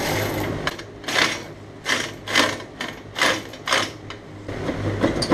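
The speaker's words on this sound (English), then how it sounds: "Alright, so I got a swivel and then a long extension." A ratchet fitted with a swivel and a long extension works loose an exhaust bolt on a VW Super Beetle, giving a close series of rapid clicking bursts at a fairly even rhythm, about eight strokes.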